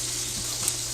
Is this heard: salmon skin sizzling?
yes